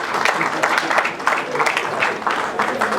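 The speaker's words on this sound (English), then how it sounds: "please give our faculty a clap" Audience clapping for university faculty at the commissioning of a laboratory, a steady round of applause with some voices mixed in underneath.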